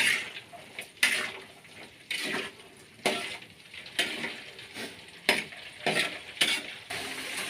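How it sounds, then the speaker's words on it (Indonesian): Chilies fry in a pan for sambal terasi with a close, continuous sizzle, broken by repeated sharp pops and stirring scrapes about once a second. "ini cabenya sudah mulai masak dan meletup-meletup ya"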